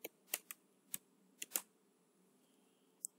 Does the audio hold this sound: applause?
no